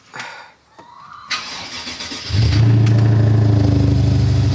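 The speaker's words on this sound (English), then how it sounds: "We're in the BMW right now, so try to get y'all a little startup." A BMW 550i starts up: a few quiet clicks and a brief starter whir, then the engine catches and settles into a loud, steady idle rumble close by.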